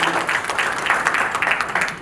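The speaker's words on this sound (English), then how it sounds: "Huge round of applause." Brief burst of audience applause at a coaching business meeting, lively uneven clapping from a room of members, close and fairly loud.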